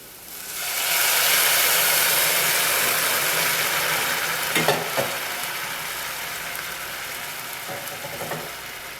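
Cooked beetroot and potato go into a pan of translucent frying onions, a loud hiss rising as they land, then a steady sizzle with a few scraping stirs and no voices.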